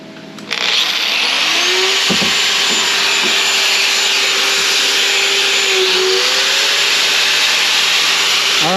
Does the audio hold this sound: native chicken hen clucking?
no